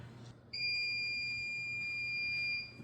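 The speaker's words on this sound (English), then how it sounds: "You can turn off the alarm." A Bluetti battery power station sounds its alarm after a switch from single phase to split phase: two steady high-pitched beep tones start abruptly, hold loud and continuous for about two seconds, then stop.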